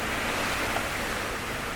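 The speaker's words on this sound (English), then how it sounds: "There goes another good gust." A strong gust of the 2020 Iowa derecho roars as steady, dense broadband wind noise, loud and close throughout with no break.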